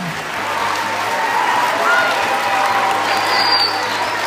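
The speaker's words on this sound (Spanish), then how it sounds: "vamos a entregarle un aplauso y un regalo a la profesora educadora de párvulos, Margarita Bustos" A school audience at a Teachers' Day ceremony claps steadily and loudly for a preschool teacher, a dense, sustained round of applause heard close with no talking over it.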